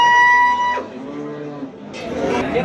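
A cow at a livestock market bazaar lets out a single loud, drawn-out moo, followed by a second lower bellow, with crowd noise and market bustle behind it.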